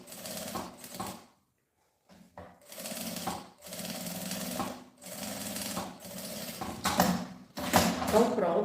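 Sewing machine stitching back and forth along a backpack seam, close, in rapid mechanical bursts broken by short pauses, with a louder rattling run near the end.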